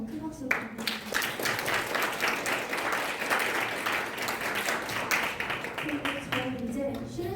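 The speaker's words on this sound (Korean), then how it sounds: "발표 진행해주신 화교님 다시 한번 큰 박수 부탁드립니다." Audience applause for a presenter after a cloud computing conference talk, sustained clapping from a crowd filling the room for several seconds, rising quickly and easing off toward the end, with some voices heard underneath.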